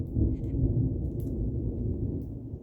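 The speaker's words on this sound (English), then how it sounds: "Thunder and lightning." Low rumbling thunder rolls continuously, a deep and steady boom that fills the short stretch with no talking over it.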